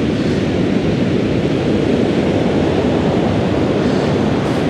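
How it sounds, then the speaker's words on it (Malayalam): Sea waves crash against a coastal cliff in Australia, a loud, continuous rushing roar of surf and spray filling the scene with no voices. "ഇതുണ്ട് ആ തിരമാലകൾ അടിച്ചത്"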